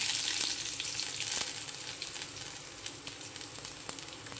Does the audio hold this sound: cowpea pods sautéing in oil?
yes